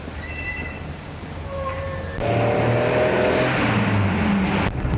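A car engine in a 1936 crime film picks up for a getaway, a low steady drone that jumps louder partway through and keeps humming, with faint tonal sounds earlier.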